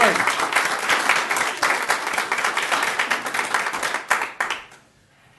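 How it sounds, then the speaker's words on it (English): A room of people at a city council meeting claps for newly seated council members, brisk close applause that thins out and fades to quiet at the end, with a faint voice underneath. "Let's have another round of applause for the new council members."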